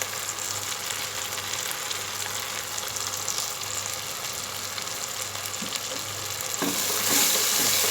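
Turmeric and crushed fried whole red chillies sizzle and are stirred in a pan while cooking ridge gourd sabzi, a steady close hiss with scraping strokes, growing a little louder and brighter near the end.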